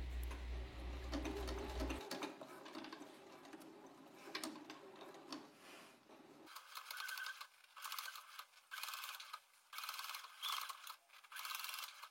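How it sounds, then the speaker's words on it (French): Sewing machine topstitching all the way around a belt, starting from the bottom edge: a rapid mechanical stitching chatter, with a low motor hum at the start, then lighter clicking runs in short bursts and pauses. "On va venir réaliser une surpiqûre tout autour de la ceinture."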